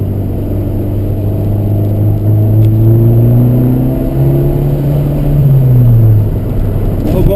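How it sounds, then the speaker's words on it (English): An Abarth turbo car's engine revs steadily, a loud close drone rising and falling in pitch through two swells, with no voices. "We'll warm up this turbo a little bit."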